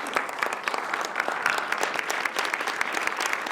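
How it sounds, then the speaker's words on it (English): Studio audience claps for a guest DJ arriving on an interview show, a steady, moderately loud round of applause heard from a little distance with no talk over it. "Give him a round of applause as he comes."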